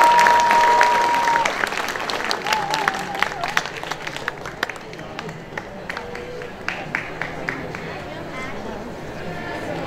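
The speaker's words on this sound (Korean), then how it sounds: "큰 박수를 부탁드립니다." Loud crowd applause at an outdoor festival in Seoul with dense clapping that gradually thins and softens, while a voice speaks briefly in Korean at the start.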